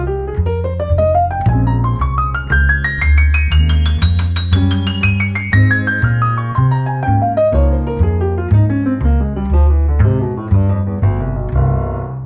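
Jazz piano plays improvised lines in running triplets that climb high and then descend over a steady left-hand bass pattern. The playing is loud, close and continuous.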